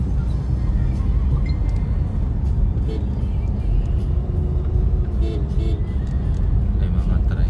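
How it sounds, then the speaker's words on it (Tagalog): Motor tricycles and other vehicles pass along Cannon Road near Mayon Volcano in Albay, a continuous mid-distance engine drone and road noise, with people talking over it. "May mga tricycle."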